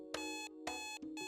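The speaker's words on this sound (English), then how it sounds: "Still without the energy to turn the alarm off, I stare at the ceiling for a bit" A visual novel alarm clock in Snoot Game rings in repeated electronic beeps, with three bright pulsing tones in quick succession, moderately loud and alone.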